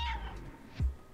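A short cat meow from the video game Stray, fairly quiet, with a second low chirp-like call near the end.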